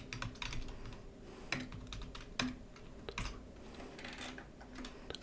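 Code being typed on a computer keyboard, quick close clicks and key taps in an uneven rhythm with a few louder strikes, faint overall and with no talk.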